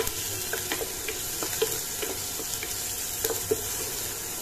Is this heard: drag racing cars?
no